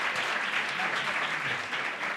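A live show audience applauds for a guest named Diego, with dense, steady clapping from a nearby crowd that stays loud and even across the brief moment.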